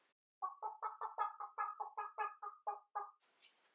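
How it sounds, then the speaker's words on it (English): A hen clucks in a steady run of about a dozen short, evenly spaced clucks, close and clear with nothing else over it, ending in a brief hiss of noise. "and the hen says"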